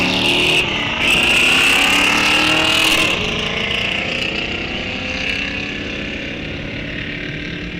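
Two muscle cars drag racing side by side, a 1980 Pontiac Trans Am against a 1969 Chevrolet Chevelle at a raceway strip, their loud engines roaring at full throttle then fading as they pull away down the track.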